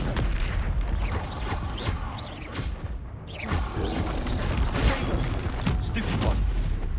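Spell blasts and magical explosions crackle and boom throughout combat in the video game Hogwarts Legacy, dense and continuous with layered impacts, while a voice shouts over the fight.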